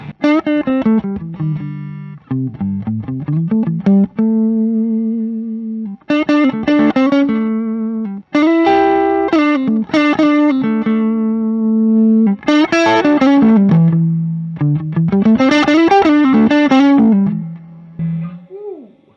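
Loud, distorted electric guitar through a three-pedal blues rig into a pushed amp, playing a lead line of sustained notes and bends, saturated and compressed, with short pauses between phrases.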